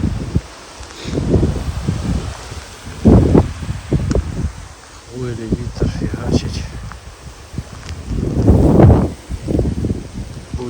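Strong gusting wind buffets the microphone at a lake during a rainy fishing trip, a loud broadband roar that swells and fades in waves, with someone talking over it throughout.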